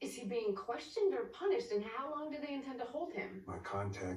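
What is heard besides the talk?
No distinct noise like a dog, phone or traffic.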